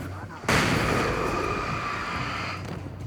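A flashbang grenade detonates in Alan Wake: a sudden loud blast, followed by a sustained high ringing tone that slowly fades over a few seconds.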